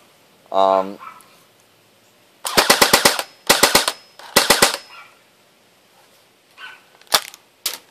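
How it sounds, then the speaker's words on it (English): A Matrix X36C airsoft gun fires BBs in several quick bursts of sharp rapid clicks, close and loud, separated by pauses, with a short voice sound at the start and a few single shots near the end. "It usually only double fires, or it shoots 2 BBs at once"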